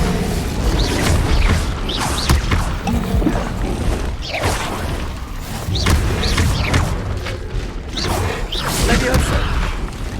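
Incendio fire spells cast in Hogwarts Legacy amid a dense, loud battle mix of whooshing bursts, thuds and crashes that repeat every second or two, with no pauses.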